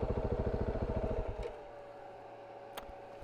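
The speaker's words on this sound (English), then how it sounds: "here you can hear the fan of the motorcycle on" A motorcycle's rhythmic engine pulses cut out, leaving its cooling fan running on a hot day as a steady, close, low hum with faint clicks.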